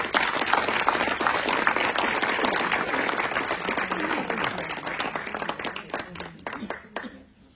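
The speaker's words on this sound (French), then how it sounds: "je vous demande d'applaudir ce soir Valérie Bugeaud" Audience applause fills the room at an event after a performer is introduced, dense steady clapping that slowly thins and fades near the end, with some voices mixed in.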